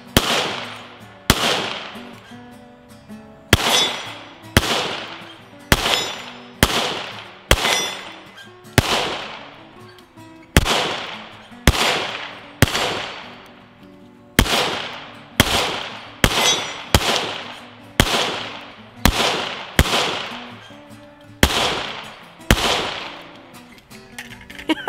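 A Ruger 57 pistol fires a full magazine outdoors, about twenty loud sharp shots in an uneven rapid rhythm with short pauses, each crack ringing out with a brief decay, no talking.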